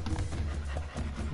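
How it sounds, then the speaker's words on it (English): A goat in the Crash Bandicoot video game pants rapidly like a dog, a short close breathy rhythm alone with no talk. "Look at it over there panting like a dog."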